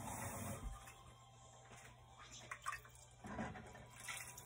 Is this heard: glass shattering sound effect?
no